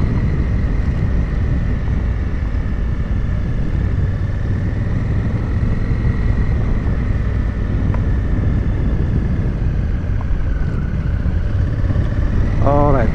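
Honda Africa Twin Adventure motorcycle riding on the road, a constant engine drone mixed with heavy wind rush at the microphone, steady and close throughout.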